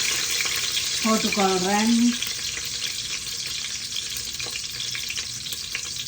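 Garlic frying in ghee in a pan, a steady broadband sizzle throughout, with a voice speaking briefly near the middle.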